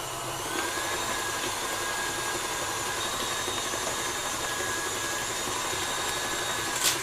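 An electric mixer beats cupcake batter in a steady, continuous whirring drone, close and fairly loud, holding an even pitch for about seven seconds with no talking.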